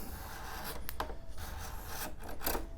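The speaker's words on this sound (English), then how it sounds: "I'll just card scrape this till it's clean" A steel card scraper rasps across a wooden table top, stripping off the old finish in steady, close rubbing strokes.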